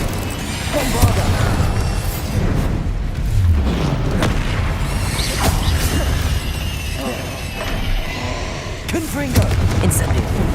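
Repeated Bombarda explosion spells go off in the video game Hogwarts Legacy, heavy booming blasts and crashing impacts layered over dense game effects and a constant rumbling backdrop.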